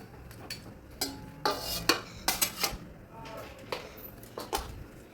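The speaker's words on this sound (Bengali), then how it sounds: "এইবার মাছগুলো দিয়ে দেওয়া হচ্ছে।" Catla fish pieces going into a cooking pot for a cauliflower and potato curry, with a run of close clattering knocks and scrapes of utensil against metal, some sharp and bunched, over a quiet background.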